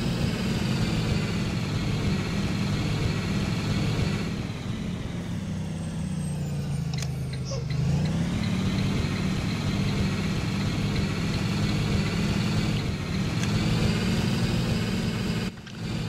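Car driven recklessly in a video game. A loud, steady engine drone carries throughout, its pitch dipping and then climbing back midway, with no talk.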